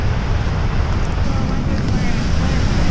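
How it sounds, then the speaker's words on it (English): The river below Gullfoss waterfall roars as a dense, loud, steady rush of churning water, mixed with strong wind buffeting nearby. "Yep, there is a river down there."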